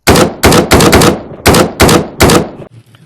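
Seven loud, sharp gunshots fire in a quick, slightly uneven rhythm from a handgun in a VR horror game built in Unreal Engine 5, each crack ringing out briefly before the next, with no talk over them.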